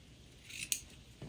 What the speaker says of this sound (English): I'm just going to cut across and across, just being careful not to cut those stitches